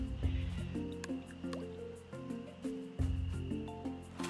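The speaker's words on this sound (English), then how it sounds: "Let's get everything watered." Watering crops in Roots of Pacha: repeated soft, bubbly drip-and-splash bursts with gurgling tones, arriving in quick rhythmic clusters, fairly quiet and alone.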